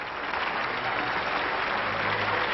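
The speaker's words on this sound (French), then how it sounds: "Cet homme que la foule ovationne, c'est Charles Munch." An audience at the Théâtre des Champs-Élysées gives a sustained ovation to the conductor at the Orchestre de Paris's 1967 debut concert, dense steady clapping that fills the hall, with no voices, on an old, band-limited recording.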